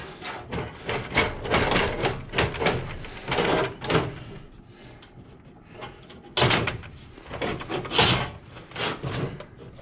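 Hard plastic and metal knocks, rattles and scrapes as a panel on a combo vending machine is worked loose and pulled free, irregular clattering bursts close by with quieter pauses.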